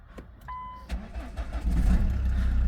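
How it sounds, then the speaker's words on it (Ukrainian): A short beep, then a cold Ford Mondeo with push-button start-stop cranks and catches at once, settling into a low, steady idle up close. "заводиться з півоборота"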